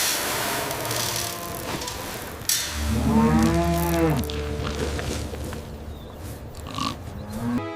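Cattle mooing, one long, loud, deep low from a nearby cow in the middle, with rustling and background noise before and after it.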